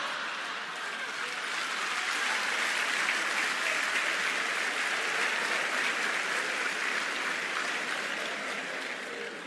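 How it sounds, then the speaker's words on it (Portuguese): Sustained audience applause fills a talk's hall, a dense steady wash of many hands clapping at once for about nine seconds, loud and even throughout before easing slightly at the end. "Estava difícil de você aplaudir"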